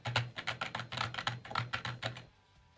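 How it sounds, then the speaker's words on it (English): Computer keyboard keys clack in a quick, uneven burst of about a dozen sharp strokes, close and fairly crisp, then stop abruptly into quiet with no talking. "The downside is I think my keyboard clacks are a bit louder."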